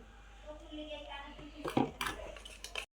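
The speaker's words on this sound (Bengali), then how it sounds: "ডিম আর চিনি ফেটা হচ্ছে" Eggs and sugar are beaten for a cake in a bowl, the whisk or spoon clinking and scraping against the dish in quick, irregular taps while a person talks nearby.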